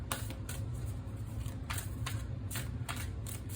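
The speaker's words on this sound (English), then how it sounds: "you can enjoy the ASMR of shuffling" Tarot cards being shuffled up close, a series of crisp riffling bursts and soft papery flutters repeating irregularly over a low steady background hum, with no talking.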